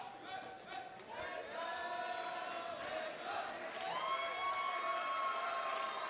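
Crowd at a featherweight title fight in an arena, cheering and chanting in a loud, sustained roar, heard from a distance with rising tones of voices.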